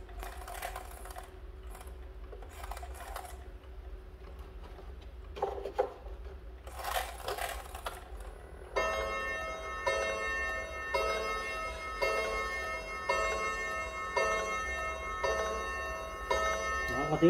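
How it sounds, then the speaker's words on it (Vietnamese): A wooden-fronted battery-powered clock, run on two large batteries, chimes a sustained ringing melody for the second half after a stretch of faint ticking and soft handling, loud and close with no talk. "Con này thì nó có cái tiếng chuông như này các bác nhé."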